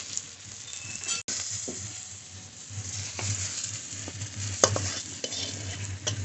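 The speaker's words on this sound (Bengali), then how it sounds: "খুব কড়া করে ভাজে নিয়ে একটু হালকা করে ভেজে নিয়েছি" Ginger, onion and green chilli frying in a pan with salt and turmeric, a soft steady sizzle with occasional stirring scrapes and a few sharp clinks, close and fairly quiet.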